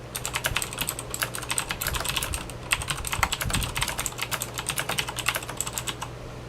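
Rapid, steady clicking of a Razer BlackWidow mechanical keyboard being typed on continuously, close up, with a low constant hum beneath.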